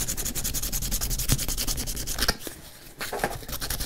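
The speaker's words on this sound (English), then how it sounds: "And you're sanding it down so that the wood and the brass are flush with each other." Steady abrasive rubbing of rough-grit sandpaper over wood and brass inlay on a ring, continuous scratchy strokes with a brief pause near the end, close and fairly loud.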